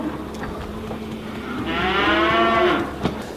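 Stressed cattle on a Korean livestock farm: one drawn-out moo from a cow at moderate distance rises above a steady barn background, with no talk.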